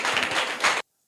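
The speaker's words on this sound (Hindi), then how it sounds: "जोरदार तालियां इनके लिए" A quiz audience at a government school breaks into a burst of clapping for a correct answer, dense and close for under a second before cutting off sharply into silence.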